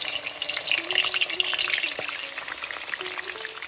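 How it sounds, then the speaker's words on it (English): Steady broadband sizzle and crackle of chicken pieces frying in hot oil, fairly close, with faint clinks and no talking. "What we are doing is frying the chicken before we cook it."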